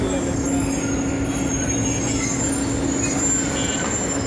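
A WDM-3D diesel locomotive running with its train, a loud, steady rumble and rolling clatter with a constant engine drone carrying throughout.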